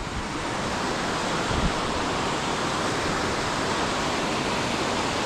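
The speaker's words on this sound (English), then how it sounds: "So another waterfall here" A waterfall on Middle Prong Trail roars in a dense, continuous rush of falling water, loud and close, unbroken throughout with no voices.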